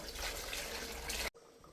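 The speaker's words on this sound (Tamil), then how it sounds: "முதல்ல சுடுதண்ணியை சேர்த்துக்குவோம்" Hot water pours into a pot of rice for coconut rice, a close, loud, steady splashing stream that cuts off sharply after about a second, leaving a quiet room tone.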